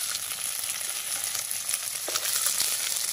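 Small fish fry in a wok with a steady, bright hiss of sizzling oil that holds evenly throughout, broken by a couple of faint soft clicks as the pieces are handled, with no one talking.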